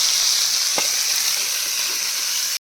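Food tawa-frying in oil on a flat iron griddle, with a loud, continuous bright hiss of sizzling close up and one brief louder crackle, ending abruptly.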